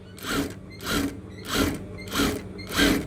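A sewing machine stitches a men's robe in five evenly spaced bursts of whirring, clattering mechanism noise, close and clear with brief pauses between runs and no talk.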